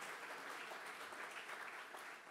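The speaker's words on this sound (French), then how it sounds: "Help me give the Lord a hand clap today." A church congregation claps steadily during a Sunday service, a dense, even patter of hand claps heard at a distance and fairly soft.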